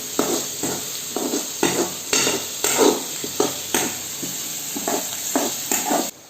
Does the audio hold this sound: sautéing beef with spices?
yes